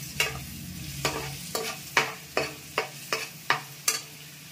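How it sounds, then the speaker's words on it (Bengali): Zucchini frying in a pan with sugar and turmeric is stirred, giving eight or nine sharp, evenly spaced scrapes over a low steady sizzle, close and clear with no talking. "এবার নাড়া দিলাম।"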